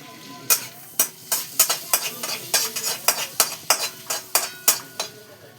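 Whole garam masala spices, including cinnamon, green cardamom and a black cardamom, hit hot oil in a pan, a close sizzle punctuated by a rapid series of sharp clinks and scrapes from a spoon against the metal.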